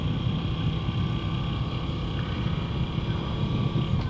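Steady, loud engine drone of a 2021 Moto Guzzi V7 Stone motorcycle while riding, with a low rumbling pulse and a constant whining tone, running continuously close by without pauses.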